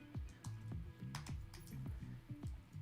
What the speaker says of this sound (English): so when I start typing